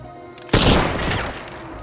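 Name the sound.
rifle gunshot in a film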